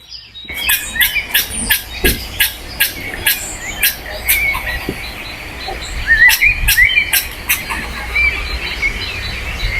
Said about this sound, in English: I don't know what kind of bird is that